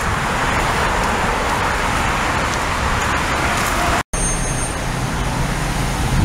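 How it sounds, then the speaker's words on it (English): Heavy road traffic roars past continuously, a dense wash of cars and larger vehicles close by, loud and steady with a brief dropout near the end. "I tell you, traffic's heavy today."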